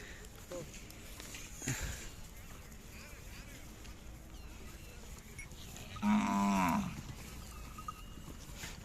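A single loud, drawn-out moo from a cow at a cattle fair near the end, with quieter voices and outdoor background noise around it.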